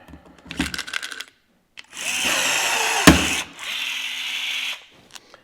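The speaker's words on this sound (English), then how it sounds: "I'm gonna bust out my my Milwaukee M12 rivet gun again" Milwaukee M12 cordless rivet gun setting metal rivets, with short mechanical clicks followed by two sustained whirring motor runs broken by a sharp snap, close and loud.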